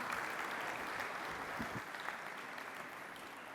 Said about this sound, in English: thank you very much for the kind applause